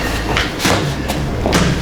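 Kickboxing strikes thudding into a pad, several heavy padded thumps landing in quick succession, close and loud, with a voice muttering between them.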